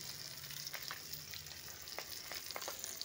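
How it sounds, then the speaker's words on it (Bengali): Fish fries in a pan after being flipped, a soft continuous sizzle with small crackling pops, faint and close. "এক পিঠ আবার উল্টে দিয়েছি, দিয়ে তারপরে আবার ভালো করে ভেজে নিচ্ছি।"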